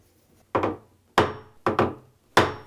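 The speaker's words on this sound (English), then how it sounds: "put clamps on it" Clamps being fitted onto a wooden wall cabinet, four sharp, loud woody knocks and clacks, each ringing briefly, spaced irregularly with short silences between.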